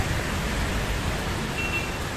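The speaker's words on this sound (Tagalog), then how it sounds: "tingnan nyo, ang lakas ng ulan" Heavy rain pours outdoors during street charity food distribution, a steady dense hiss filling the whole moment without pause, loud and close.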